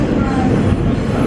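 Steady, dense rumble and rattle of a subway train riding through Brooklyn, heard from inside the car, loud and continuous over a brief span with no clear speech.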